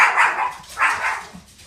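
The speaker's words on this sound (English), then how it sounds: "My family's coming in and my dogs have to welcome them every time they walk through the door." Household dogs bark indoors to greet family members coming through the door, two distinct close barks about half a second apart, followed by a softer yip.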